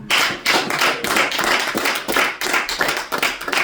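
A church congregation applauds together, giving dense, loud clapping that surges in waves for a few seconds without speech.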